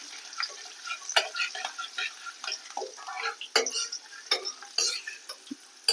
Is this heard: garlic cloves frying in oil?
yes